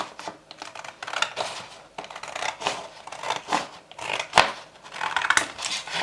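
Cardboard being cut by hand, a series of crisp, irregular crunching and snipping sounds close by, rising and falling over several seconds with no talking.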